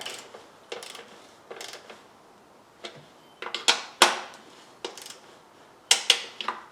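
Ratchet clicks in short bursts while spark plugs on a 2015 Chrysler Town and Country with a misfire are snugged down, with several quick rattling strokes and sharper metallic clicks toward the end, close and alone.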